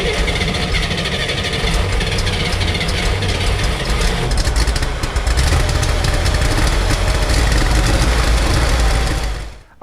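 A flood-damaged 1965 Chevrolet Corvair engine cranks and runs roughly, producing a loud, continuous, uneven rumble with knocking that lasts nearly ten seconds before cutting off abruptly, heard close up with no talking.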